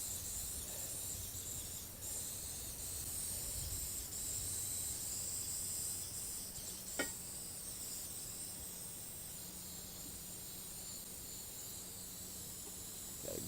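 A faint, steady spray hiss runs for over ten seconds as solvent is sprayed onto a chrome clad wheel cover, with a small click midway.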